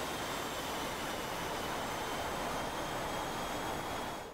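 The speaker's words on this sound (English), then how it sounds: "Powerful jet." Jet engine roar in a flight simulator during a test flight, a broad, steady rushing roar with a faint high whine, continuous and even throughout with no talk.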